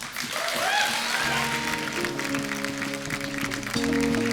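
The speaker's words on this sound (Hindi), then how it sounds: "एक बार अरुणा जी के लिए और बिंदु जी के लिए जोरदार तालियां हो जाएं।" Studio audience applause on a TV comedy show fills the room steadily while sustained musical tones play underneath.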